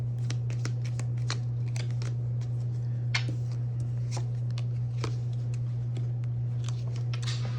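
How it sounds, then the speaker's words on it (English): Tarot cards being shuffled by hand produce a steady run of quick, crisp riffling snaps and papery flicks, close and fairly loud. A constant low electrical hum sits underneath, and no one speaks. "I'm going to pull a couple of these now. I want to get some more tarot."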